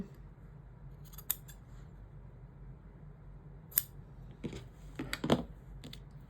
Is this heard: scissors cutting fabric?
yes